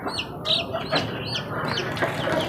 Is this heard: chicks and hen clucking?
yes